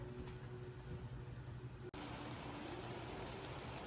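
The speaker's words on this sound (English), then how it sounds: "Just the drizzle pouring down. It's a soft rain today." Soft, steady drizzle patters down evenly, a gentle hiss of light rain with no voices.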